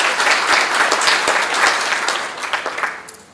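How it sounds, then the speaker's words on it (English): Steady round of applause from a seated conference audience at an academic research colloquium, dense clapping that holds loud and then thins and fades toward the end, with no talk over it. "Let's give them a round of applause, please."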